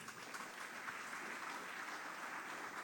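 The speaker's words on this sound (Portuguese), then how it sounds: "uma salva de palmas" Faint applause from a crowd, a steady patter of clapping hands lasting a few seconds, heard from some distance with no talking.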